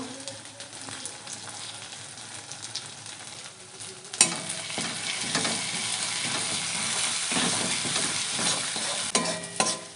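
Masala with chili paste and turmeric sautéing in a pan, a steady close sizzle with scraping stir strokes that grow louder and busier partway through, no voices.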